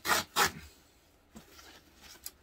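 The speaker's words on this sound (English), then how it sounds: "it's got one of those zipper ripper thingies" Two quick ripping bursts of a tear strip being pulled open, followed by fainter crinkling and rustling of packaging.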